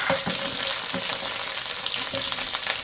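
Garlic sizzles steadily in hot oil in a home kitchen, a dense, loud crackle with faint stirring scrapes and no talk.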